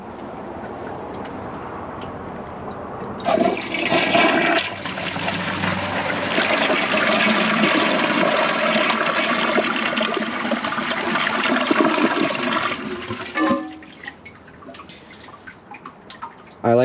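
A toilet flush, either an American Standard Cadet 3 or a Kohler Highline Ingenium, with the handle held down: a loud, sustained roar of rushing water for about ten seconds, then gurgling and dripping as it drains and refills.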